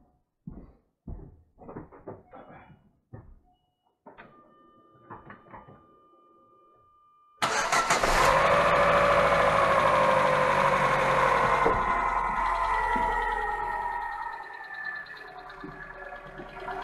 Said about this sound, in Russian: Все, ребят, машина завелась, работает.